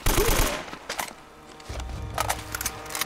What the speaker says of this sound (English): I thought I heard some more gunshots